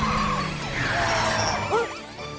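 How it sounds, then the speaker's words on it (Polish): Wailing siren of a police truck in a Halloween cartoon with trucks, rising and falling over a busy mix of cartoon effects and music, loud and close throughout. "Syrena przestraszy ducha i tym samym przyciągnie Kary i Jerry'ego w twoją stronę."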